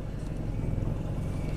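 Steady road and engine rumble from inside a car on a test drive with an intermittent P0300 misfire, a broadband continuous noise at moderate level with no distinct events.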